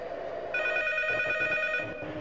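A telephone rings inside the horror game P.T., with one bright, trilling electronic ring burst lasting over a second against a low humming ambience, close and clear.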